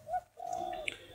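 A pet spotted dove gives a short, close, soft coo, a single low hooting phrase heard alone.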